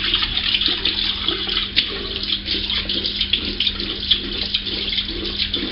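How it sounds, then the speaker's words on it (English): Cold water runs steadily from a tap into a sink for a rinse after shaving, a constant close splashing hiss with small gurgling fluctuations throughout. "Cold water rinse."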